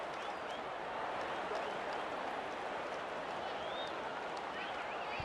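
Home crowd roaring after a try at a Penrith Panthers versus Cronulla Sutherland Sharks rugby league match, a dense, steady wall of cheering and applause that holds loud and unbroken throughout, with faint whistles rising above it.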